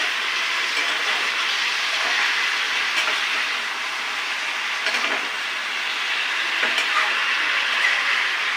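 Eggplant (brinjal) pieces sizzle in hot oil in a pan, giving a steady, fairly loud broadband frying hiss with faint crackles throughout and no talking.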